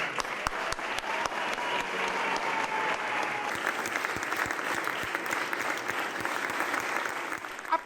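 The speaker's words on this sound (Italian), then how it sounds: "Applausi" Sustained applause from a crowd greets Giacomo Possamai as he receives the mayor's sash in the historic Sala Stucchi, with dense steady clapping, a few sharper nearby claps, and faint voices beneath.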